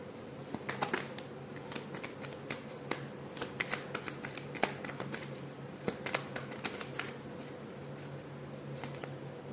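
Tarot cards shuffled and drawn by hand, a steady run of soft, crisp flicks and snaps up close, with no voices over them.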